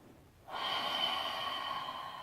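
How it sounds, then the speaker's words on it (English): One long breath is pushed out through the mouth during a back stretch, a close steady airy rush that starts suddenly after a short quiet moment and holds evenly to the end. "breathe into that edge by taking long, deep inhales and exhales, and they could be exhales out the mouth if you want"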